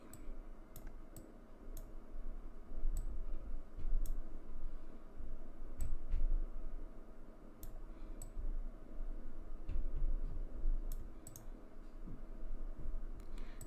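Keys clicking in short irregular bursts as text is typed into Cricut Design Space on a computer keyboard, fairly quiet and close, with no voices.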